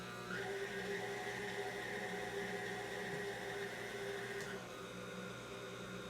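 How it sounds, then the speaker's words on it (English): An electric mixer whirs through cake batter in a kitchen, a steady mechanical motor whine that shifts and drops in pitch about two-thirds of the way through. "Just gonna mix it again, make sure it's all good and mixed."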